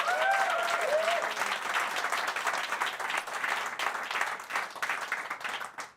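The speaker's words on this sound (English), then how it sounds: "So let's give them a round of applause." An awards-ceremony audience at the Better Lives Awards 2023 claps in a sustained round of applause. It starts loud after a brief voice, then holds a dense, even patter that fades slightly toward the end.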